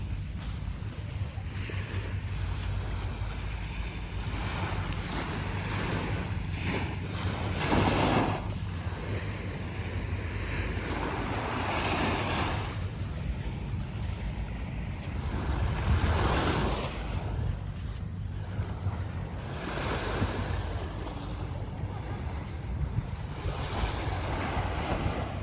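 Ocean waves break and wash up a beach at San Narciso, Zambales, a steady roar of surf with swells every few seconds, under heavy wind buffeting the microphone; no speech.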